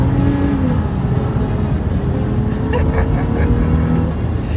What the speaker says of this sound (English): Now let's accelerate.